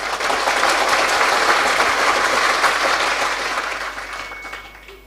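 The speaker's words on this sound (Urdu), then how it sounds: "تالی." Sustained applause from a mehfil audience, dense and steady throughout before tapering off slightly toward the end, with no speech over it.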